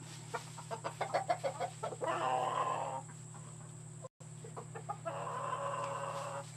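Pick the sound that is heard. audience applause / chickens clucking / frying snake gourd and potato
chickens clucking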